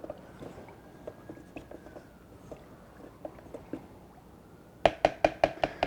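A stick stirs a mixed walnut and brown maple wood stain with lacquer in a container. Soft, irregular wooden knocks and scrapes come first, then a quick run of about six louder, sharp taps near the end.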